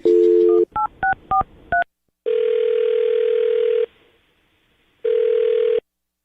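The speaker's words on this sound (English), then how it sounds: "I'm going to dial his phone number right now" A telephone number being dialed: a rapid run of keypad tones, then a long steady dial tone, a pause and a second ringback tone, loud and close with no voices.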